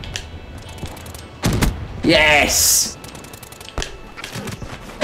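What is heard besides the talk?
War Machine grenade launcher firing in the video game Black Ops 3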